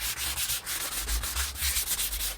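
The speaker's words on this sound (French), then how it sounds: "Je la retourne. Pareil, j'ai commencé par le grain le plus gros ici en 180." Wood for a wood-and-metal bench is sanded by hand with 180-grit sandpaper, giving close, steady, rhythmic scratchy strokes back and forth with no voices.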